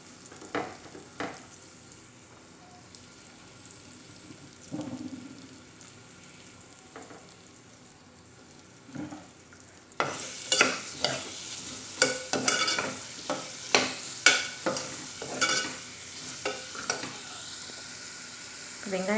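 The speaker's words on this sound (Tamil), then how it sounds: "வெங்காயம் நல்லா வதங்கட்டும்." Onions and garlic sauté in a pan for a Tamil Nadu-style chickpea kuzhambu, a steady sizzle first broken by occasional stirs, then louder, quicker scraping strokes of a spoon against the pan, close up with no voices.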